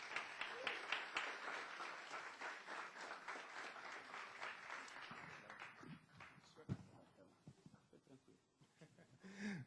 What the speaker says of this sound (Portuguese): dê mais uma salva de palmas para o Senhor